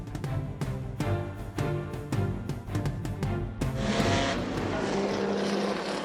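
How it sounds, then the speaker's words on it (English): Porsche race cars roar lap after lap around the Laguna Seca racetrack in Salinas, California: a loud, dense engine wail with repeated sharp surges, building into a steadier, broader roar in the second half. "A roar of Porsche race cars turning lap after lap at the famed Laguna Seca racetrack."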